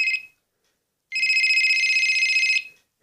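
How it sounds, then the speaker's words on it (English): A 1994 Pioneer PCC-730 analogue flip phone rings with a bright electronic trill, a short burst followed by a longer sustained ring after a pause, loud and close with no talk. "Hey, it's working, who's ringing me?"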